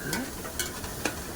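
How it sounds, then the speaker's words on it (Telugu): Raw ground onion paste frying in oil in a pan for fish curry, stirred now and then; a soft, steady sizzle with a few spoon scrapes, fairly faint and close, with no talking. "ఇంకొద్దిగా ఫ్రై అవ్వాలి."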